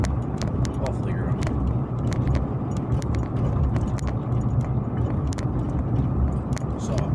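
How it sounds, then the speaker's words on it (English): A car drives out toward a sawmill, with a steady low engine and road drone from inside the cabin and scattered small clicks and rattles; a voice is also present. "So I'm just driving out to the mill right now"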